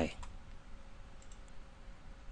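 Computer mouse clicking while setting up a MySQL database in cPanel: a sharp click at the start, then a few faint light clicks over a steady low background hum.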